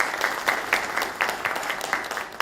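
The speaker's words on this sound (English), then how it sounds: "a round of applause to welcome Mr." An expo audience in Pune applauds to welcome Mr. Sekhar Singh, Municipal Commissioner of PCMC, with moderate clapping carrying a loose, rhythmic pulse of louder claps across a couple of seconds.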